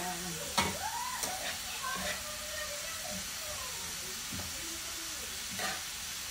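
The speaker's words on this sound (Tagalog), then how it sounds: "Yan, halu-haluin lang po natin guys." Bitter gourd (ampalaya) being stirred in a pan sizzles steadily, with a few sharp scrapes and clinks of the utensil against the pan breaking through the soft frying hiss.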